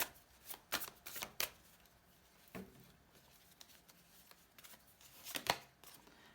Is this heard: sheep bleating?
no